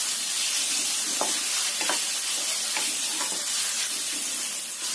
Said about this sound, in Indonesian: Ini kita aduk.